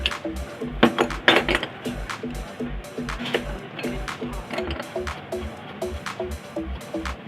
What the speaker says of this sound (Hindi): ये नट निकल गया, ये राड निकल गया